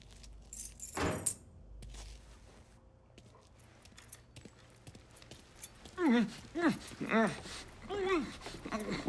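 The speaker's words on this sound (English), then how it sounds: "Lincoln, pick up the keys." Keys are picked up in the video game Mafia 3, a short bright metallic jangle near the start, followed by voices talking over a low background.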